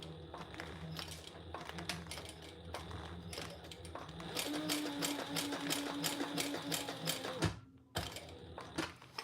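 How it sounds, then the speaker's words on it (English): A sewing machine back stitches a Kleenex box cover, a steady close mechanical chatter of rapid needle strokes running for several seconds, pausing briefly near the end and then resuming. "And I'm just back stitching."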